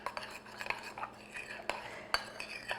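Spoon scraping and clinking in a bowl as crushed freeze-dried strawberries are stirred into a cheesecake ice cream mixture, with irregular light taps and a couple of sharper clinks, close and fairly quiet.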